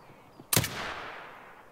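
A single sharp gunshot in a video game, with a sudden loud crack followed by a short fading echo over a quiet background.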